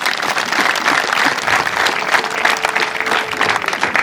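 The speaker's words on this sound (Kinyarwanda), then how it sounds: "Dukomere Imana amashyi" A church congregation breaks into steady, loud applause for God during a sermon, many hands clapping together in a continuous wash with no talking.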